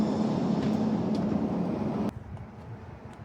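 A suburban passenger train rushes past at speed, a steady broadband roar and rumble that cuts off abruptly as it clears, leaving quieter ambience behind.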